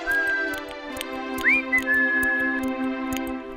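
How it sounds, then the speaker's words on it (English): A tin man from a fairy tale whistles a bright tune in a few sustained and gliding notes over a steady musical backing, close and clear with no talking. "He was busy oiling his screws and was whistling away."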